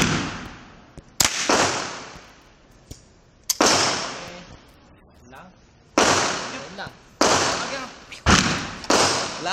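Sharp, loud rifle shots at an outdoor shooting range, fired singly at irregular intervals about a second or two apart, each with a short echoing decay, while people talk and chatter between shots.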